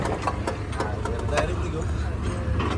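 A tractor engine runs steadily at close range with a low, rumbling drone that does not let up, and scattered clanks and knocks sound over it.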